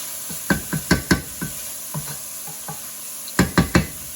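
Garlic, onions and peppers cooking in a pan for chili, heard as a series of close spatula scrapes and knocks in short clusters over a soft background sizzle, with a pause in the middle.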